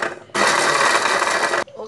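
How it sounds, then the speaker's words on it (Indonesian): A blender whirs loudly and steadily for over a second, grinding shallots, garlic and washed dried anchovies (ikan bilis) for a fried curry macaroni paste, with brief kitchen clatter just before and after. "bawang merah, bawang putih untuk di blender dan ikan bilis yang telah dicuci untuk di blendkan semua bahan ini"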